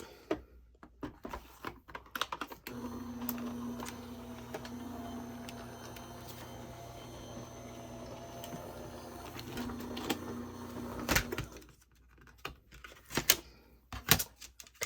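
An Empress Mini die cutting machine with an embossing mat fitted hums steadily for several seconds as the plate passes through, bracketed by soft handling clicks and taps at the start and end.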